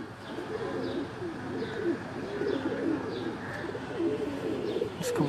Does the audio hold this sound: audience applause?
no